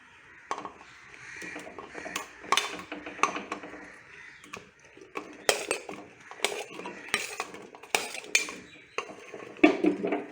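Chopped vegetables going into a pot of cooked lentils for sambar, with irregular clinks and knocks of a metal spoon against the pot, sharp clattering bursts spread through a quiet kitchen, no speech.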